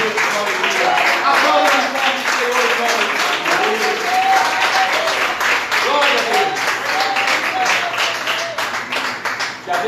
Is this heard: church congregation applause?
yes